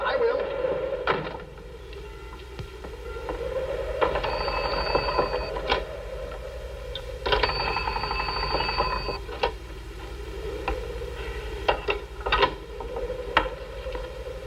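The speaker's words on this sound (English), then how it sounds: "That sounds like the fire bell." A fire bell rings in two sustained metallic bursts through steady background noise, with people talking faintly around it.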